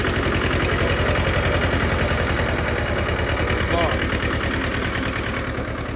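A Zetor 1811 tractor engine runs steadily in third gear, a loud, close, continuous diesel drone with a dense rhythmic knock that holds for the whole stretch.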